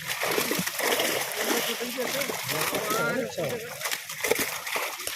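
Water splashes and sloshes loudly as a fishing net is dragged through a village pond full of large catla fish, with people talking and calling out over the churning water.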